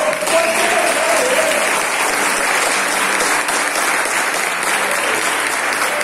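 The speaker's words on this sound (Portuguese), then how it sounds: "Pode aplaudir o Senhor." A large congregation applauds the Lord at the KERIGMA 2023 Christian conference, loud, dense and sustained clapping filling the hall without a break.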